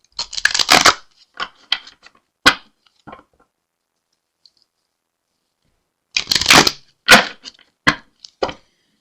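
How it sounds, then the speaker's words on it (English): Tarot cards are shuffled in two crisp riffling bursts separated by a quiet pause, with a few sharp taps and flicks between them, close and clear. "let me shuffle again, though"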